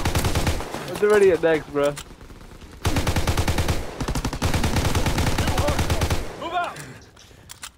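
Rapid automatic gunfire rattles in bursts in Call of Duty on the Wii, loud and close, while players talk over it.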